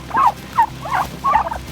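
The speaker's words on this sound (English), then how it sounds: "About to get attacked by Thanksgiving turkeys." Turkeys gobble close by in four quick, loud bursts of rattling calls, with short gaps between them.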